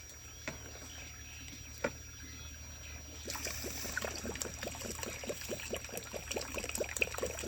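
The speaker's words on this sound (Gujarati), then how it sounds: "પાણી ડાલ રહી છે।" Water poured into a cooking pot of rice on a village wood-fired clay stove, a moderate splashing pour that starts partway through after a quieter outdoor stretch with a few faint taps.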